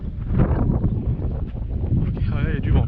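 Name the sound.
wind blowing on microphone near Yaté river mouth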